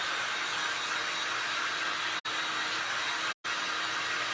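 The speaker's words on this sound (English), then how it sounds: "I'm gonna hit this with my dryer, 2 seconds" A hair dryer blows on resin in a glass-and-resin craft project, giving a steady, loud, close whoosh that cuts out briefly twice.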